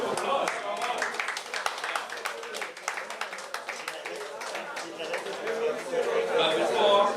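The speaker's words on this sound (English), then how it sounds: "Can I get a round of applause?" Applause at an annual college golf tournament ceremony, a dense run of claps lasting several seconds and swelling toward the end, with a murmur of voices mixed in.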